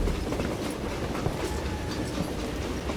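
A train rolls along the rails in the Call of Juarez Gunslinger game, a dense, continuous rumble with clickety-clack wheel rhythm, loud and steady throughout.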